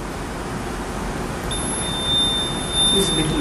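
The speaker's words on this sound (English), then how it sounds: "let us test the second buzzer" A steady high-pitched electronic buzzer tone, a second buzzer under test in a physics classroom, starts partway through and holds continuously over a noisy background hum.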